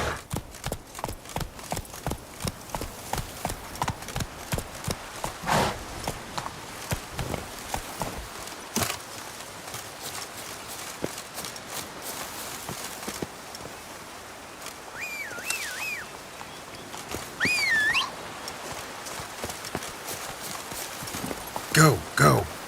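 Roach the horse's hooves clip-clop in a fast, steady rhythm on ground in The Witcher 3: Blood and Wine, loud and near, easing to a slower, sparser gait midway, with occasional game sounds layered over the hoofbeats.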